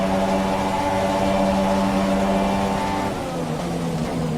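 An F1 car at full throttle down a long straight at Spa in the F1 2018 video game, a loud, sustained high-pitched engine whine that drops in pitch near the end as the car slows.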